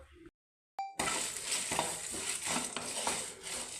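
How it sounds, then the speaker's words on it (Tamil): Spices such as cardamom dry-roasted with dried red chillies in a pan: after a brief gap and a short metallic ring, a close, continuous crackling sizzle with faint scraping. "இதோட கூட காஞ்சி மிளகாவும் சேர்த்து வறுத்துக்கலாம்"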